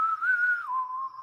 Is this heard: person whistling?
yes